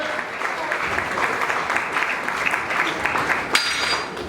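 Wedding guests applaud loudly in a dense, sustained burst of clapping from a crowd, steady throughout with a sharp accent near the end.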